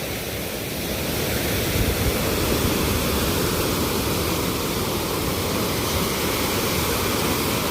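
Strong wind and waves batter the Lake Erie shoreline at Presque Isle, a loud, unbroken roar of surf and gusts with no pauses.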